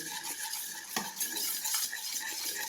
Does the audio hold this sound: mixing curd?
yes